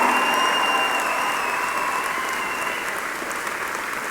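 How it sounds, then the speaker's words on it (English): Friends and family in a large convocation hall applaud the graduating class, a broad continuous wash of clapping that stays fairly loud and eases slightly over four seconds. "I ask your friends and family to join me in applauding the amazing graduating class of October 2015."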